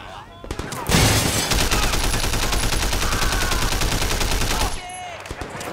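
Dense, sustained automatic gunfire from the video game Sleeping Dogs fills about four seconds with rapid overlapping shots, loud and continuous, then cuts off abruptly into quieter game ambience.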